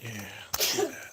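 A single sharp sneeze bursts out midway, with someone speaking briefly before and after it.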